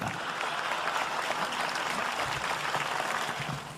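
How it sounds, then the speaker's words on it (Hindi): Audience at a Hindi poetry recital (kavi sammelan) applauding, a continuous even roar of many hands clapping for nearly four seconds, fading slightly at the end. "ताली बजाइए"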